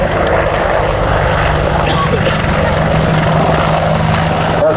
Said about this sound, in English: As the aircraft manoeuvres low level